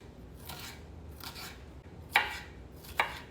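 A knife slices onion into long, big pieces, giving four spaced crisp cuts, soft at first and then two sharper snips near the end, against a quiet background.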